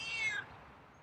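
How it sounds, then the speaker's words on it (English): A feral cat gives one short meow, fairly close, fading into quiet room tone. "And a different meow."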